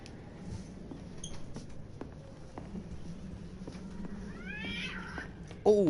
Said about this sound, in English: Oh, them fucking cats outside fighting.